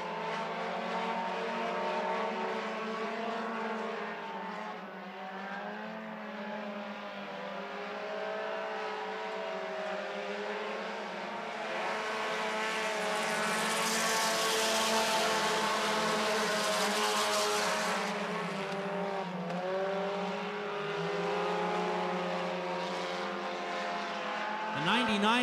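Four-cylinder stock cars roar around an oval track in a heat race, a steady loud engine drone that swells as the pack passes close, with a commentator calling the action throughout.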